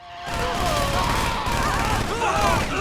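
Sustained gunfire in a Grand Theft Auto game, with Franklin shooting up a strip club: dense, continuous crackling bursts that fill the whole stretch, loud and close.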